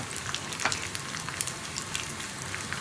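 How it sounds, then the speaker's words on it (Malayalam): Coconut pieces, cashews and raisins fry in a pan over a low flame for papaya payasam, giving a steady close sizzle with small crackling pops throughout. "ചെറിയ ഫ്ലെയിമിൽ വെച്ചിട്ട് വേണം എപ്പോഴും തേങ്ങാക്കൊത്തും അതുപോലെ തന്നെ നമ്മുടെ കാഷ്യൂനട്ടും റൈസിൻസും ഒക്കെ ഒന്ന് ഫ്രൈ ചെയ്തെടുക്കാൻ"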